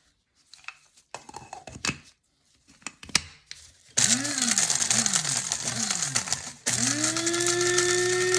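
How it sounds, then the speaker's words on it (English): A grinder grinding dehydrated squash into powder: first scattered clattering and handling knocks, then loud whirring bursts that rise and fall in short pulses before a steady continuous grind. "Here we are, grinding it up."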